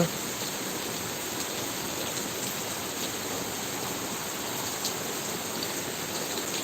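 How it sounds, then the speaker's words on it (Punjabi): Steady rain pours over a Punjab village near paddy fields, a dense, even hiss that holds constant throughout with no voices. "ਕਿੱਥੇ ਕਿੱਥੇ ਮੀਂਹ ਪੈ ਰਿਹਾ"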